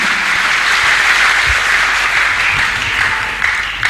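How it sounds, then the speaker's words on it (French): A church congregation applauds during a bilingual English-French service, a dense, steady wash of many hands clapping at once that holds evenly for several seconds. "Clap for Master Jesus."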